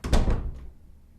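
A house door opening on a recorded English-course dialogue: a close, dull thunk followed by a second knock and a fading rattle, heard alone without speech.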